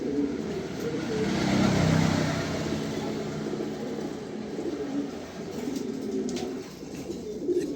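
A red-eyed pigeon coos in low, steady, rolling murmurs that swell and fade, fairly close, with faint traffic noise and a passing vehicle in the background.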